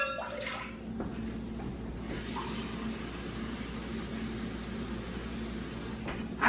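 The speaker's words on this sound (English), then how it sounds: "I'm going to add 2 cups of water" Regular tap water pours into a mixing bowl in a kitchen, a soft splashing gush over low background hum, with brief clatter at the start and end.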